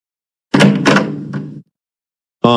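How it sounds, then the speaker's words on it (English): A door is banged on in a quick, loud, close burst of heavy thuds lasting about a second. After a short silence, a brief tonal sound begins. "There's someone at the door banging."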